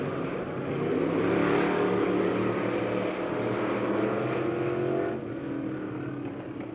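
Race cars roar down the backstretch of a speedway at Lebanon Midway Speedway, a loud, sustained engine drone that swells and then eases slightly near the end as the pack moves past.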